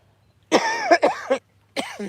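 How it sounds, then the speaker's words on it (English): Several close coughs in quick succession, a cluster of three followed by a pause and one or two more, harsh and voiced. "As you hear me cough"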